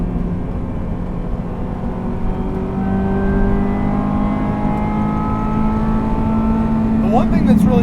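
A Ferrari F355 GTS with a manual gearbox rises in pitch as its engine revs, then a sharp throttle blip on the downshift follows near the end, loud and close from inside the car.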